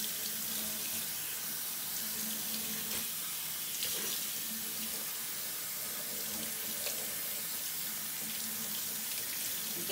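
Tap water runs steadily into a sink while a wig is rinsed under it, a continuous close splashing hiss with small shifts in the flow.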